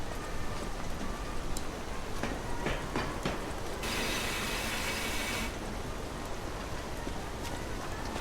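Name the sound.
rain on a foggy day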